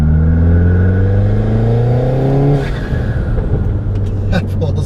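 A MINI Countryman S ALL4 with a JMTC 47mm Dominator turbo, mid tune setting and second cat resonator removed, accelerates hard, engine tone climbing loudly, then dropping as a gear shifts, close and continuous.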